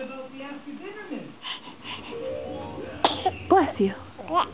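A person sneezes sharply near the end after a stretch of quiet voices, followed by short bursts of speech close to the mic.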